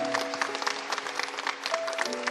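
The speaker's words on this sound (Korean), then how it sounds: "우리 찬양팀에게 한번 큰 박수로 격려해 주겠습니다" Church congregation applauding the choir and worship team during a Sunday worship service, a steady wash of clapping from a crowd sustained throughout, with faint background tones.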